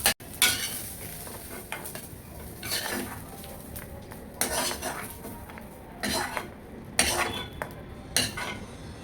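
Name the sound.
fried onions being taken out of the pan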